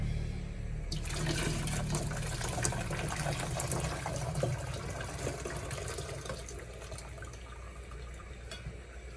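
Liquid pours steadily, a continuous splashing rush like water running into a sink, starting after a brief pause and continuing without talk.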